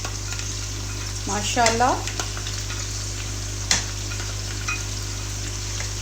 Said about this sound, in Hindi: यहाँ पे प्याज हमारा शामिल हो गया है। अब हम इसको अच्छे से इसमें मिक्स करेंगे।